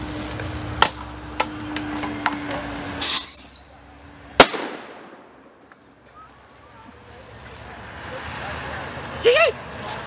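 Fourth of July fireworks go off outdoors, with several sharp cracks and one loud bang followed by a hissing fizzle, while people talk nearby.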